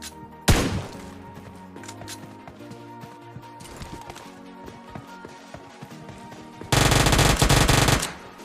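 Bursts of rapid automatic gunfire from a PUBG Lite battle against bots, with a brief shot early on and a loud sustained volley near the end over quieter game sounds.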